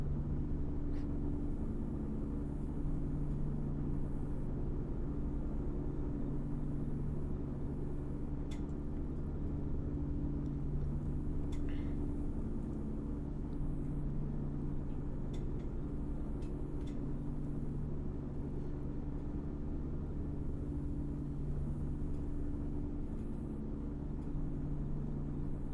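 A 2012 Ford F350 ambulance cruising at normal speed in a roleplay driving game, with a steady low engine drone and road rumble that holds even throughout, moderate and continuous with no talking.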